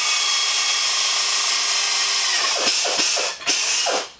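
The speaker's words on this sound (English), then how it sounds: "we drill our second one." A power drill bores a hole in wood, a loud continuous high whine that holds steady, then breaks into several short revving bursts as the bit finishes, close up.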